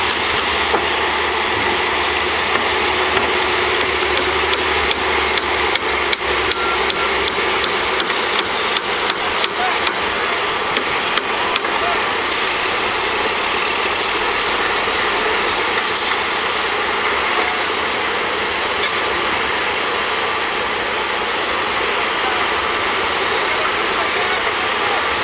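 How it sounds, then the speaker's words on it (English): Concrete pump truck engine idling at a job site pouring concrete footings, a steady loud rumble with a rapid mechanical ticking early on, continuing unchanged for the whole stretch. "we're going to turn him into a pump and we're going to pump some concrete through him"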